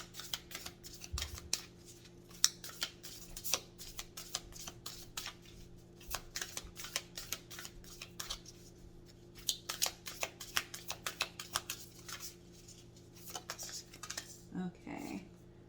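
Tarot cards are shuffled and handled at close range with quick, soft riffling and flicking clicks in a busy stream, fairly quiet, with a few faint bumps toward the end.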